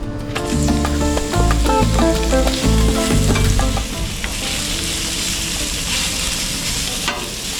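Fajita meat strips seasoned with salt, pepper and garlic sear on high heat in a pan, giving a loud continuous sizzle that eases slightly midway, with tuneful music underneath.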